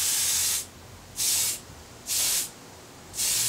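Aerosol spray paint applied in dark gunmetal to model rocket nozzles of a 1/100 scale Saturn V, four short even hissing bursts separated by brief pauses, close and clear.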